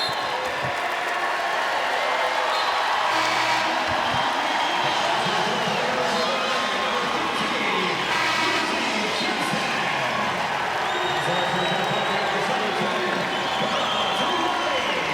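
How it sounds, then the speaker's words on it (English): A sold-out crowd at Purcell Pavilion roars through a women's college basketball game between Cal and Notre Dame, a dense, sustained wash of cheering and applause under an announcer's voice. "The loudest cheer of them all as Hidalgo and Miles exit"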